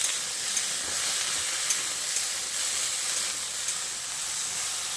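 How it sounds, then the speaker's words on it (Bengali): Okra frying with salt and turmeric in a pan, a constant loud sizzle with faint stirring, close up and without speech. "এবার ঢ্যাঁড়সের মধ্যে অল্প একটু নুন আর হলুদের গুঁড়ো দিয়ে ঢ্যাঁড়সটাকে ভালোভাবে নেড়ে চেড়ে খানিকক্ষণ ভেজে নেব।"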